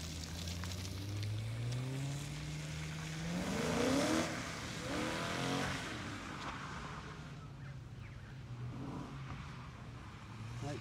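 A BMW car engine revs hard at full throttle on a skid pan, rising and falling pitch sweeps across the first half before settling into a steady loud rumble with crowd ambience.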